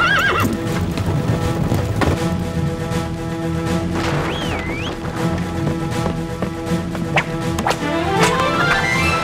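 Cartoon horses ridden by soldiers in an animated Zorro story neigh and whinny several times over steady clip-clop hoofbeats, with loud, close galloping and occasional sharp knocks.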